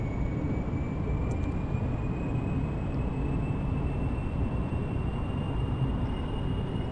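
A VTOL aircraft flying in Kerbal Space Program: a steady, dense engine roar that holds constant throughout, with a faint high whine sliding slowly upward above it and no talking.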